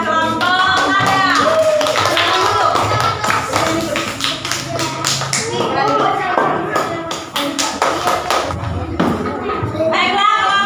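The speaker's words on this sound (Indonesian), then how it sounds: "beri tepuk tangan buat kelompok ada" Primary-school pupils applaud a student group in class with uneven clapping and desk taps, close and loud, with children's voices talking and calling out around it.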